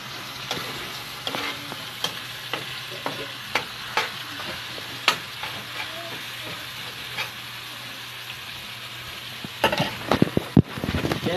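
Potatoes frying in a pan and being stirred, a steady sizzle broken by sharp scraping and clacking strokes of the utensil at irregular intervals, busier and louder toward the end.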